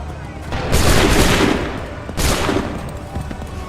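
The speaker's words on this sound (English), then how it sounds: "Open fire." Musket volleys in Assassin's Creed III arrive as two big, roaring blasts of massed gunfire, each swelling and fading into a smoky rumble, loud and close with a pause between them.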